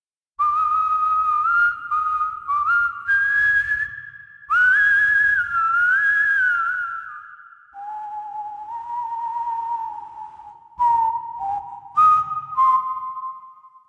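A sampled human whistle from the Soundiron Voices of Gaia library carries a clean melodic phrase of held and sliding notes, clear and close, stepping between pitches with short gaps and no talk.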